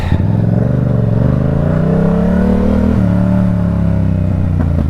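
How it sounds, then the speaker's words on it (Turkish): A Yamaha R7 motorcycle engine revs up and settles, a loud close rising and falling roar heard alone with no talk. "Biraz gaz verdim ki böyle heyecanlansınlar diye."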